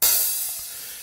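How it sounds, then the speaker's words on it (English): A single open hi-hat strike rings out bright and sizzling, then decays slowly over about a second, heard alone and close. "they might go to the open hi-hat"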